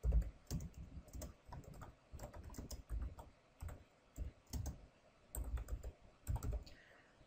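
Someone types on a computer keyboard in uneven bursts of close, crisp key clicks, with short pauses between words.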